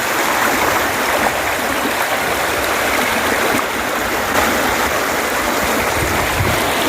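Strong river current surging after a typhoon, a dense, continuous roar of rushing water that stays loud and steady throughout with no voices.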